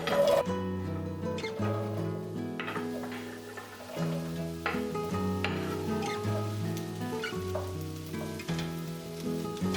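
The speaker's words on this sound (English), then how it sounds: "I saute the zucchini on medium heat until it softens and gets a bit of a roasted color." Zucchini sautéing in a pan over medium heat, a soft, even sizzle running beneath louder melodic background music throughout.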